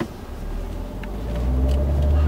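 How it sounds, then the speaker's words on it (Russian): A 2014 Kia Sportage's four-cylinder engine drives on the road, its low rumble growing steadily louder and deeper as it accelerates during an overtake, with tire and road noise and no talking. "Здесь звук 4-цилиндрового мотора, он как-то нас не вдохновляет ни на какие подвиги."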